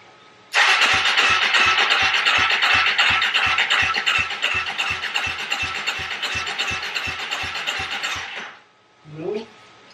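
A Polaris Predator ATV cranking hard on the starter without firing: a loud, close, evenly pulsing churn for about eight seconds, then it cuts off and a brief voice follows.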